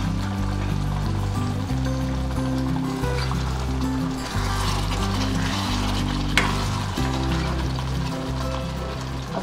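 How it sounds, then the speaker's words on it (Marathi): A cashew and potato masala fries in a pan and is stirred, giving a steady loud sizzle with low scraping and stirring sounds throughout. "अधेमध्ये फक्त हलवणार आहे झाकण काढून."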